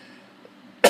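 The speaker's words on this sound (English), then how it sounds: "And I think I have to cough again." A single short, sharp cough bursts out at the very end after near silence, close and loud.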